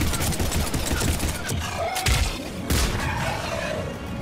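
Rapid heavy pistol gunfire in the video game Mass Effect 3, dense overlapping shots and booming impacts crackling continuously amid a loud chaotic battle.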